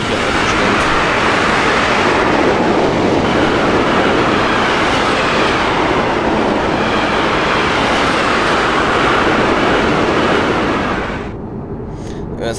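A train runs continuously in Train Simulator 2016, a loud, close rolling rumble with rhythmic wheel clatter that holds steady before dropping away near the end.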